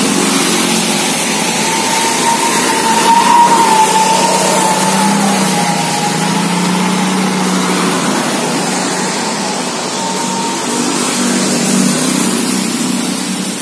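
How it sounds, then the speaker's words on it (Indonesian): A Yamaha Mio motor scooter runs steadily on a test ride, its small engine humming continuously at close range with a faint whine over road rumble, and no one speaks. "Ini dia orangnya langsung test ride."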